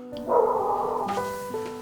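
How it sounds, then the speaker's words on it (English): A dog gives one drawn-out, tonal bark that slides into a whining howl, close and fairly loud, lasting under two seconds. "dogs can be tough to work with too"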